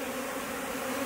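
Honeybees shaken out of a hive super into a new box in an overflowing purple hive give a dense, steady, close buzzing swarm drone that fills the short moment alone.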